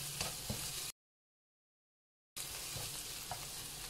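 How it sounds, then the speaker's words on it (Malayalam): Chopped onions sautéed and stirred in a pan for a fried chicken dum biryani give a steady close sizzle with soft stirring scrapes, broken by a stretch of total silence before the frying resumes. "നന്നായിട്ട് സവാള വരട്ടിയെടുക്കുക."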